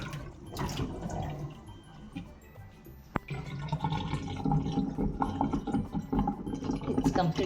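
Water drains from a kitchen sink basin with a soft continuous gurgle and trickle at close range, a single sharp click partway through, while a voice talks faintly underneath.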